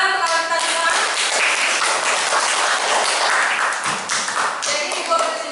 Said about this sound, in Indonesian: Tepuk tangan untuk kawan kita semua.